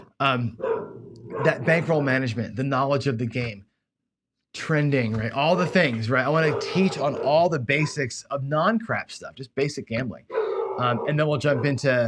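Dogs bark and yelp in the background throughout, mixed in under someone talking steadily about craps gambling.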